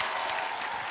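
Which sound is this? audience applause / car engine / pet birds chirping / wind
audience applause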